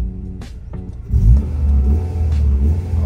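A 1999 Honda Civic SiR with a chambered muffler settles into a low, steady idle rumble after a couple of brief clicks, its engine note heard close and alone for a few seconds.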